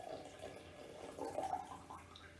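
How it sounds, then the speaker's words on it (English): Hot water being poured into a dry glass, a faint, brief trickling splash at close range with no talking. "now we're going to pour just a little bit of our hot water into the glass"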